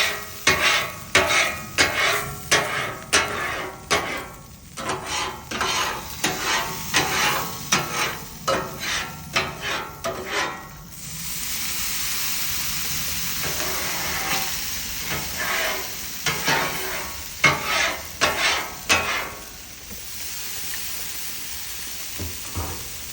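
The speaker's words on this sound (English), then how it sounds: "Use steam to clean." Steam hisses and sizzles off a hot griddle as it is cleaned, with a long steady hiss broken by repeated scraping and stirring clatters, fairly close and steady.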